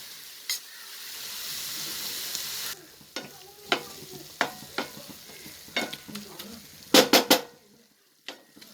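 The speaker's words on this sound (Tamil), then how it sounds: "பனானா ஃப்ளவர் ஸ்டிர் ஃப்ரை, வாழைப்பூ பொரியல்" Banana flower frying in a pan, a steady sizzle broken by repeated sharp scrapes and knocks of a spatula as it is stirred, close and clear, with a burst of louder clatter near the end.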